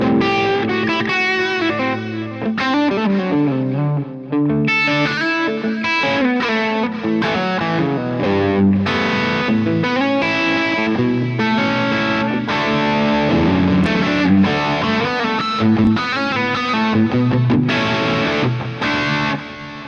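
Electric guitar played through a Fractal amp modeler with delay and a touch of room on the cabinet, loud distorted chords and lead lines with repeating echoes trailing each phrase over twenty seconds.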